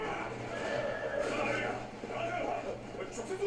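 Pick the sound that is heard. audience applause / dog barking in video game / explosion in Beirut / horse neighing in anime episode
horse neighing in anime episode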